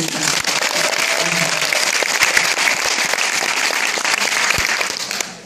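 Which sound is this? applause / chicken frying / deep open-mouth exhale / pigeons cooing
applause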